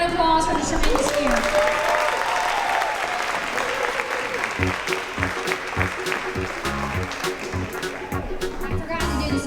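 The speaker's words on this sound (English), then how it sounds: "give these students one more round of applause for the tremendous year." A crowd applauds steadily for several seconds at a second grade promotion ceremony, a dense wash of clapping with some voices and cheers mixed in.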